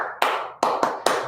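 Hands clapping a short rhythm, four sharp, close claps with uneven spacing, heard alone in a quiet room.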